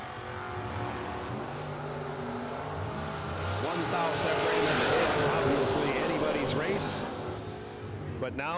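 Drag race cars roar down the strip at a bracket racing event, rising to a loud pass before fading, while an announcer talks over the engines throughout.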